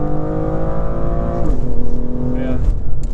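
A modded BMW M2 launches hard from a standstill, its engine rising in a loud, close revving surge with a brief stutter as the wheels spin before it pulls on. It sounds from inside the car, with no talking.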